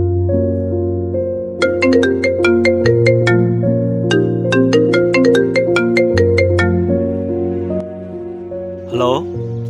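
A mobile phone ringtone plays a bright, repeating electronic melody of plinking notes over sustained tones, loud and close, ending abruptly with a short sliding sound.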